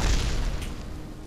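Rocket engine ignition and launch in Kerbal Space Program, a loud deep roaring rumble right up close that holds steady and fades slightly over a second.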